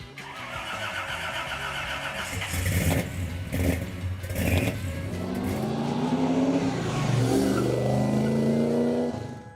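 A 1970 Chevrolet Chevelle SS 454 LS6 muscle car's big-block V8 rumbles and revs, rising into a strong acceleration with climbing engine tones, fairly close and loud throughout.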